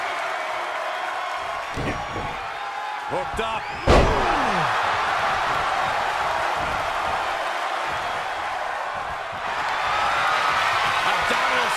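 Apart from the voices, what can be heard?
wrestling crowd cheering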